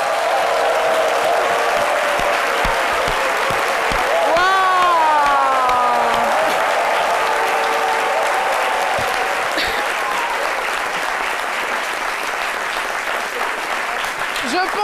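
A studio audience gives a duo a long, strong round of applause on a midday French television show, steady dense clapping with scattered cheers, while a voice speaks over it briefly partway through.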